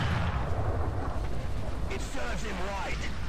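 Tank cannon fire in the War Thunder video game: a heavy, rumbling low boom rolls through the whole stretch over a dense engine-like drone, with faint mechanical whines near the end.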